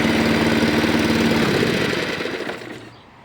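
Small 196cc petrol lawnmower engine (Hyundai HYM510SPE) running steadily and loud up close, then dropping off and winding down toward the end.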